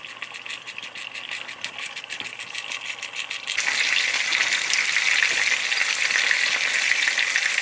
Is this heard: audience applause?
no